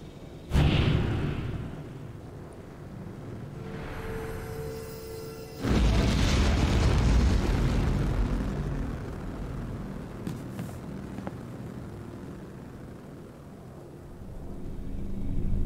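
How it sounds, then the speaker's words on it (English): A sudden booming blast erupts in a video game, followed by a rolling, rumbling roar that slowly fades, with an earlier softer thump and whoosh beforehand. "Explosion."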